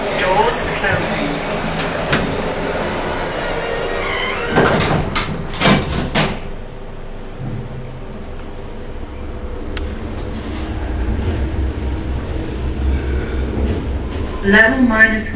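A fast lift in a shopping centre descending to an underground car park: doors slide shut with a few clunks, then a steady low hum of travel, with a voice announcing over it.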